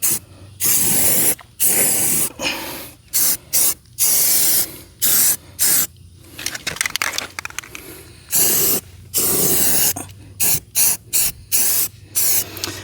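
Aerosol spray paint hissing in repeated short bursts and longer passes as light coats go onto a barn window during rehab, close and loud, with pauses of silence between bursts.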